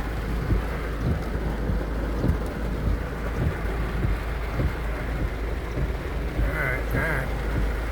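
Steady rain during a thunderstorm falling on pavement, a dense continuous hiss with low rumbling underneath and scattered sharper drops throughout.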